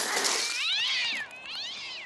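A cartoon cat lets out two drawn-out, wavering meows in quick succession, loud and close, with no other sound around them.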